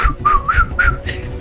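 Someone whistles a short, bright tune of four or five quick rising and falling notes, close and clear, with no talk over it.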